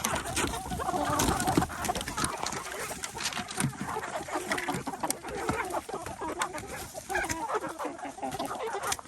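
Meat chickens cluck and chatter steadily while pecking at dumped food scraps, a dense, close, continuous flock sound with overlapping calls throughout and no talking.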